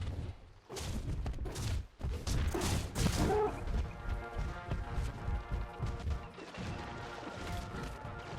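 A beaver dam in Ark is smashed apart as a loud series of heavy crashes and thwacks, irregular and close, with clattering debris over a steady ambient background.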